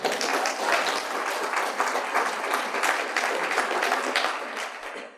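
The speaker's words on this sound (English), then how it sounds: "let's give a warm round of applause to Nick Spitzer." An audience claps steadily for a speaker at a talk, a dense and loud wash of applause that holds evenly for several seconds and then begins to thin out at the end.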